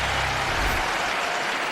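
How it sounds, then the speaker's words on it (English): Murray fans in the stadium crowd at the 2008 US Open tennis final cheering and applauding, a dense, loud, continuous roar of clapping and cheers with no commentary over it. "Finally, a chance for the Murray fans to cheer."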